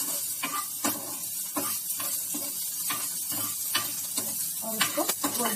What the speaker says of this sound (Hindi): देखिए ये जीरा ब्राउन हो गया, अब हम इसको हिला देते हैं